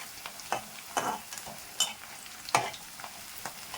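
Green chilies and onions fry in a pan with a soft, steady sizzle and occasional brighter spatters and stirring scrapes, fairly quiet and close, with no voices.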